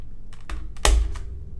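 A few keystrokes on a Keychron C2 keyboard with Gateron yellow switches, sharp close clicks in an uneven burst with one louder key press near the middle.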